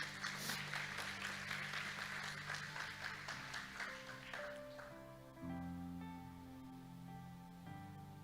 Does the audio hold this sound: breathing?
no